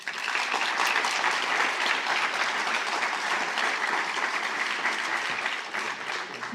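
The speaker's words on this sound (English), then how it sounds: "So please, let's give them another round of applause." An audience at a School of Medicine ceremony in the British Virgin Islands gives a dense round of applause. The clapping stays loud and sustained from start to finish.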